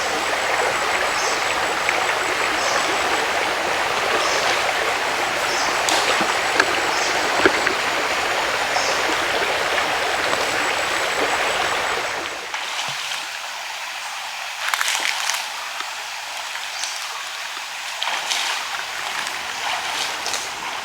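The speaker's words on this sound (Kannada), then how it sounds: "ಪಾಂಡ್ರಿ ನದಿಯನ್ನು ದಾಟ್ತಾ ಇದ್ದೇವೆ." Flowing water of the Pandri river on a trek to the top of Dudhsagar Waterfall, a steady rushing stream that fills the first half, then thins to a softer trickle with occasional splashes as people wade across.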